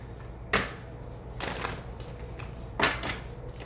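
A deck of tarot cards is shuffled in short bursts of riffling and slapping, with three distinct flurries spread over a few seconds and quiet rustling in between, close and fairly soft.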